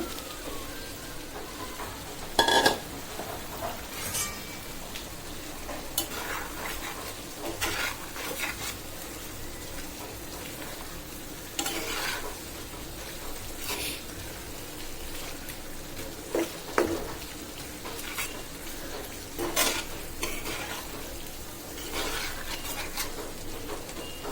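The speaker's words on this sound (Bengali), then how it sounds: "এবার হালকা ভেজে রাখা চিংড়ি মাছগুলো দিয়ে দিচ্ছি।" Lightly fried prawns go into a cooked-down masala in a pan and are stirred, giving a soft, continuous frying hiss punctuated by sharp spoon scrapes and clanks against the pan at irregular intervals.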